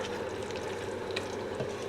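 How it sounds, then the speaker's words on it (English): Chili stirred in a hot pot, giving a steady bubbling sizzle with soft scraping and sloshing throughout, close and continuous, with no voices. "Give it another good stir, keep it in the heat."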